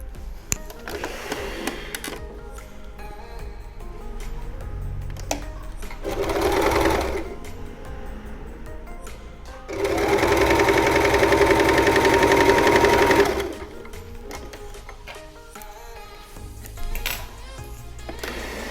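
A sewing machine stitches a folded fabric strip for a V-neck vest with a 1 cm seam, running in bursts of steady mechanical whirring separated by short pauses, close and clear with no talking.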